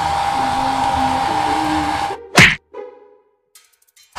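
A blower dries a dog's coat with a strong, steady roaring whoosh for about two seconds, then cuts off, followed by a sharp thwack and a few quieter knocks and clatters.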